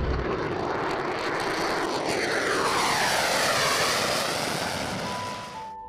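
F-22 Raptor fighter jet engines roaring, a broad, loud, sustained jet rush with a sweeping pitch as the aircraft passes, fading slightly at the end.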